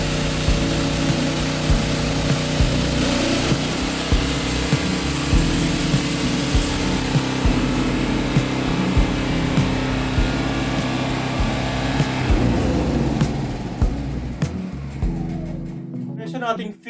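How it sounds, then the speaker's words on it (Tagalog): A Philking PK200A inverter welding generator powers a grinder and its built-in welding machine, producing a loud, continuous engine drone with grinding noise throughout, fading slightly toward the end, while someone talks over it. "Ito naman yung built-in na welding machine sa ating Philking 200A kasama ng ating grinder"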